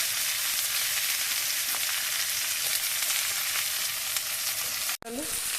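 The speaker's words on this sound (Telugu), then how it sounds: "ఇవన్నీ పచ్చిమిర్చి ఉల్లిగడ్డలు అన్నీ కూడా చక్కగా వేగినవి" Green chilies and onions with turmeric fry steadily in a pan, a loud, continuous sizzle that holds nearly throughout before a brief dropout and a few stirring scrapes near the end.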